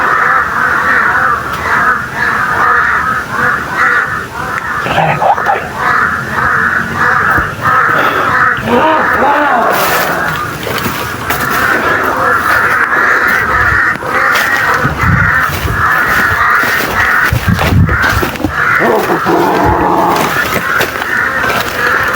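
Crows cawing repeatedly in a loud, busy outdoor scene, harsh calls overlapping with steady background noise and occasional scraping sounds.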